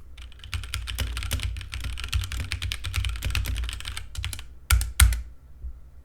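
Rapid clicking of keys on a computer keyboard, recorded through a Razer Seiren Mini microphone, steady and close, with a couple of louder thumps near the end, likely the space bar, then quiet.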